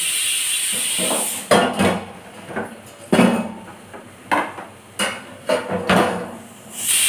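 Clattering of dishes and pots being handled in a sink, with sharp knocks and clanks at irregular intervals over a steady background hiss.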